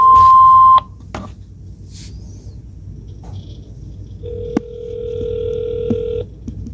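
A house landline telephone sounds a loud steady tone that cuts off, followed by sparse clicks, then a quieter sustained tone with short beeps layered over it.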